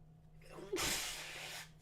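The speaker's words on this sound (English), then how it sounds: "I'm sorry, I had to sneeze." A single sneeze bursts out, fairly faint and close, with a broad noisy blast that fades over about a second against a quiet background hum.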